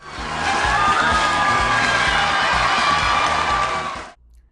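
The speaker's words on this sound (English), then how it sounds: "The Price is Right crowd." A game show studio audience at The Price is Right cheers and whoops in a loud, sustained roar that fills several seconds and then cuts off abruptly.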